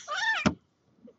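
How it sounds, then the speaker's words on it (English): A pet cat whines in a short, rising, moaning cry as she is moved off someone's lap, followed by a soft thump and then near silence. "I was trying to move her off my lap, and she didn't like that and whined"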